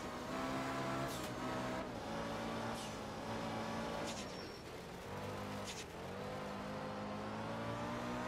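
A Group B rally car in the game Art of Rally drives with its engine droning and revving close by, the pitch rising and dipping through shifts, with brief higher whines over it.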